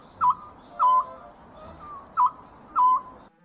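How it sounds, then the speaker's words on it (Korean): Four short, clear tonal calls from a scops owl, evenly spaced about a second apart, heard at moderate distance over a quiet background. "소쩍새 울음소리가 들려왔다."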